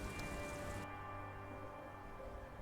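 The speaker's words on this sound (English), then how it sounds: "It's getting late and it's raining." Rain in the video game Disco Elysium, a faint, even wash of drops falling on surfaces that continues unbroken under a low ambient hum, with no speech.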